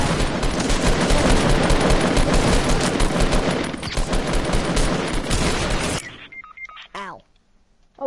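Minigun fire in Fortnite: a loud, dense, unbroken stream of rapid shots that runs for several seconds and then cuts off abruptly, followed by scattered electronic beeps and game effects.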